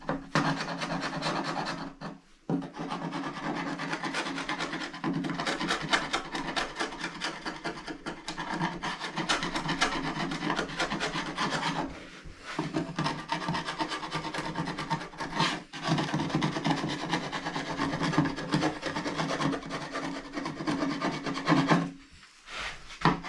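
A chisel scrapes steadily across an old wooden storm door over two centuries old, a continuous close rasping rub with a few brief breaks, no voices.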